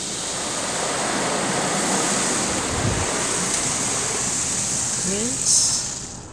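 Steady broad rushing spray of car wash rinse water pouring over a car, heard from inside with a back window cracked open, continuous and fairly loud with a brief surge near the end.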